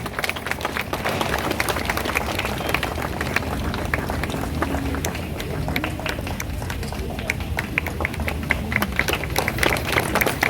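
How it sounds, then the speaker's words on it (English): Church celebration at St. Agnes where an audience applauds the post-communion junior class, a dense, sustained round of clapping from a crowd filling the whole stretch. "Let's give them a round of applause."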